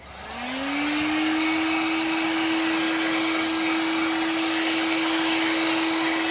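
Heat gun heating heat shrink on a 7S 24-volt 18650 lithium battery pack, a steady loud blowing whir that spins up within the first second, then holds constant with a fixed motor tone.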